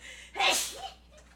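A single sharp, breathy sneeze bursts out close by, followed by a brief quiet exhale.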